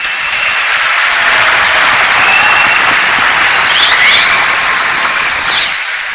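Sustained applause from a television audience at a tribute show for host Tariq Aziz, loud dense clapping filling the whole stretch at steady intensity before easing slightly at the end, with no speech over it.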